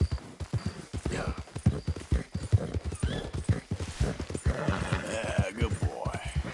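Horse hooves clip-clopping in a steady rhythm in Red Dead Redemption 2, close and clear, with a rider's voice talking over them and a brief whinny.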